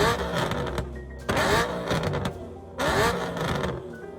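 A BMW E92's engine revs in two loud bursts separated by a dip to a lower idle-like drone, heard close and with no talk over it.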